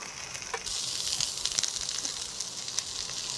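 Mint and curry leaves sizzle and hiss steadily in a hot pan, with a few stir scrapes, for a village-style fish fry.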